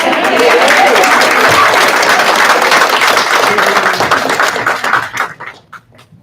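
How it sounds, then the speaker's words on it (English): Audience applause at a school board meeting, loud dense clapping from a seated crowd that holds steady, then tapers off into a few last claps and quiet. "And I would say you also need an applause because you behaved so good"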